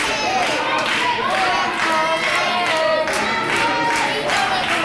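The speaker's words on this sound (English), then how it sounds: "The crowd here at Barnesville getting behind him." A crowd at a Barnesville wrestling event cheers and claps in a steady, dense roar that holds loud and close for the whole stretch, with voices shouting throughout.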